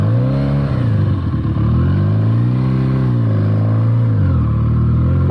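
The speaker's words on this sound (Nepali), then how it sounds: "हाम्रो गाउँको बाटो बाइक चाहिँ कुद्न चाहिँ कुद्छ" A Benelli TNT 300 motorcycle rides along a village road, its engine loud and close throughout, the revs climbing and falling in repeated waves with a rough, throaty drone.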